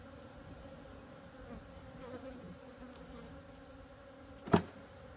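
Bees hum softly around an open hive in a backyard apiary, a faint continuous buzz with one brief louder knock near the end.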